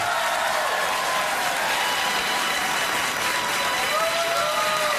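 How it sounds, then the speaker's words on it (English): A studio audience at a comedy sketch show applauds steadily, a dense, even wash of clapping that holds at full strength throughout, with faint voices mixed in. "That's not worthy of a round of applause."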